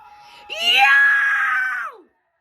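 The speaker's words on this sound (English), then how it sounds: "No, you're screaming." A single loud, sustained human scream of about a second and a half, rising sharply, holding steady, then trailing off into silence, heard up close in an indoor setting.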